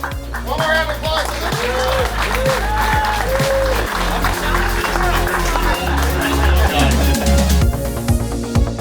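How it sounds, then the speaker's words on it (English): A round of applause from the crowd at an SCCA time attack event, sustained clapping throughout with someone speaking over it and background chatter. "One more round of applause."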